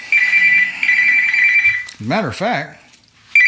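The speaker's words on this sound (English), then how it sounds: "that's my timer." A timer rings with a steady electronic trill in a garage workshop where a Mercedes R107 is being restored. The ringing runs loudly under a man's speech, then cuts off and briefly starts again at the end.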